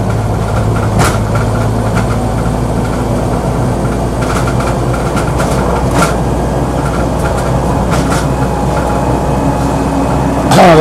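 A 1980 Land Rover Lightweight in NATO olive drab drives along a road, its engine a loud, steady low drone with continuous rumble and road noise throughout, and no talking.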